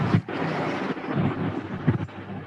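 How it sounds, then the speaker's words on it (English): Heavy rain hisses steadily while rumbles of thunder roll beneath it, with a few louder low thumps standing out against the constant wash of sound. "It's raining here"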